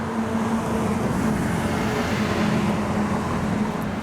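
A 1970 Chevrolet Monte Carlo with a replacement 454 V8 runs with a steady, dense engine roar and low drone, continuous and unchanging throughout, close and loud with no voices.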